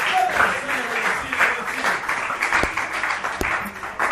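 Church congregation clapping and cheering in acclamation during a French-language service, a steady wash of applause with crowd voices mixed in and a couple of sharp louder claps near the end.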